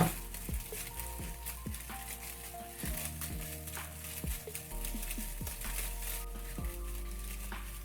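Dumpling filling sizzles steadily in a hot pan, a soft continuous frying hiss broken by repeated scraping and tapping as it is stirred and broken into smaller pieces, with no talking.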